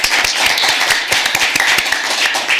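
Attendees at a local election candidate forum applaud, loud and close, with many individual hand claps distinct within a continuous patter that lasts a few seconds.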